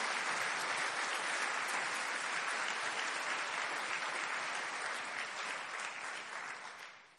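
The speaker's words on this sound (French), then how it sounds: "Oh, encore un peu plus d'applaudissements." An audience claps steadily at the close of a socio-political talk, a dense, loud, sustained applause that fades slightly over the last second.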